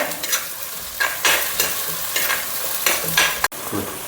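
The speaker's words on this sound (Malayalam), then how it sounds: "എന്നിട്ട് അതൊന്ന് മൂപ്പിക്കുക. 2 കറിവേപ്പിലയും കൂടെ." Curry leaves fry in hot oil in a pan while cooking a home-style fish curry, giving a steady close sizzle broken by the scrapes and clinks of stirring.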